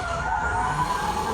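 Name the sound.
car tires skidding during a braking drift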